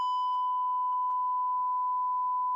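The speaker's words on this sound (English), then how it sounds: "I was trying to beep it out for you" A steady censor beep tone runs alone for the whole stretch, one continuous flat electronic bleep at constant pitch with no voice over it.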